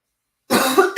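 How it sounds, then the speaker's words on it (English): After silence, a single harsh cough bursts out close up, followed by a brief second hack from a man with a lingering cough. "This lingering cough is fucking me up."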